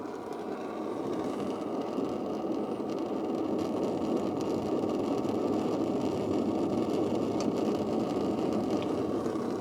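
A Russian copy of the Optimus 8R camping stove burns after lighting, giving a steady, even roaring hiss with a faint whir beneath it that holds at a constant level with no voices.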